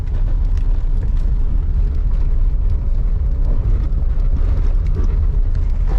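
A restored C4 Corvette with an LT4 engine runs with a loud, continuous deep rumble, steady throughout with slight fluctuations and no talking over it.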